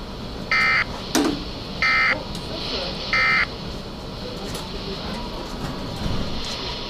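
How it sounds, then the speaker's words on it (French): Three loud, evenly spaced bursts of the Weather Radio alarm activation test tone, each under half a second, sound over the broadcast channel while a voice reads the test announcement. "Ce message est destiné à tester les fonctions d'activation d'alarme"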